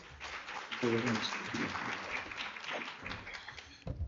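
Applause from a seminar audience, fairly faint and thin, with scattered clapping running under nearby talking voices.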